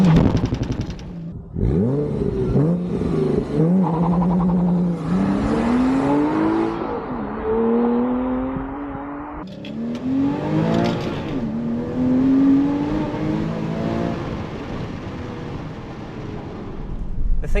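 A Porsche Cayman accelerates hard from a standstill, its engine climbing through the revs in rising sweeps with a brief dip at each gearshift, loud and continuous inside the cabin.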